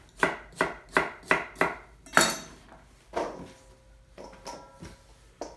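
A knife chops through a parsnip on a cutting board, with five quick, evenly spaced thuds, a louder crunching cut, then a few slower, scattered knocks, all close and clear.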